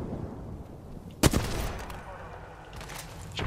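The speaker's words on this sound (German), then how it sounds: "Ah, die schießen gut." Enemy gunfire in Apex Legends cracks out as one sudden burst of shots. It sits over a steady, muffled game ambience and fades into a low rumble.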